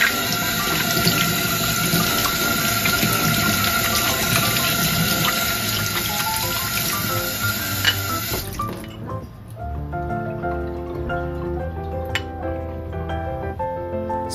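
A kitchen tap runs steadily while dried dates are rinsed for a taizishen, walnut and chestnut soup. The hissing water flow is loud and close, then stops, leaving faint drips and light handling sounds.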